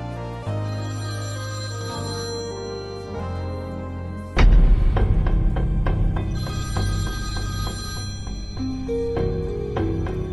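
An incoming-call ringtone on a phone in a Telugu thriller/drama film sounds over a swelling musical score, loud and tonal, with a sudden heavier surge of sound midway.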